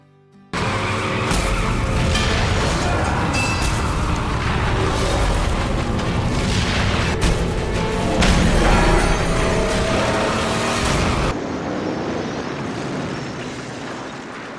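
A car drives hard in the Mad Max video game, its engine roaring loud and close with rumbling, skidding tires and crashing impacts layered together, then cutting off abruptly into quieter rumble near the end.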